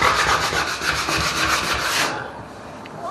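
A bathtub surface is scrubbed with 400-grit sandpaper, giving a loud, close, rough back-and-forth rasp that stops abruptly after about two seconds.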